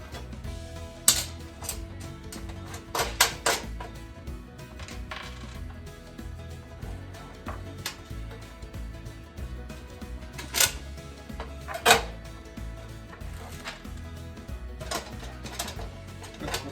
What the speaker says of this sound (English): That we'll simply hand tighten down.